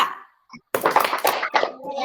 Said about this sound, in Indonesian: mari kita melaksanakan tepuk PPK, penguatan pendidikan karakter